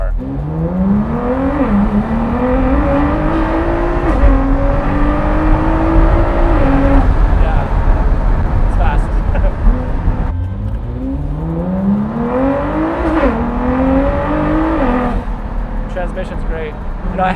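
Ford GT engine with a titanium exhaust revving hard, its tone climbing in repeated rising sweeps with short drops between them, loud and close, while people talk over it.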